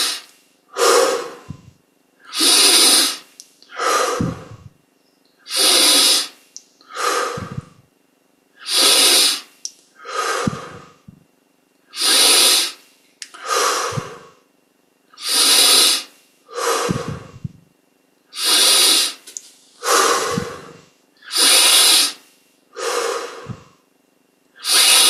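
Deep, rhythmic breathing during Hong Sau meditation: a steady series of loud, close, airy inhales and exhales, about sixteen in quick regular alternation, with no talk.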